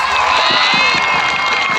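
A large outdoor crowd at the closing ceremony of an international kite and sweet festival on a parade ground, cheering and clapping loudly in a steady wash of noise with voices shouting through it.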